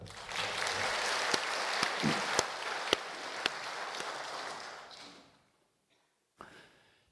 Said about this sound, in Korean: 우리 한번 큰 박수 하겠습니다.